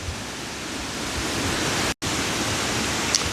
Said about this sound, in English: the wind has really kicked up, but it's a glorious day